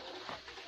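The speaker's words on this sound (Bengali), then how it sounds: "সেটা ভালো পায়রা।" A pigeon in a village pigeon loft gives a brief, soft coo over low background noise.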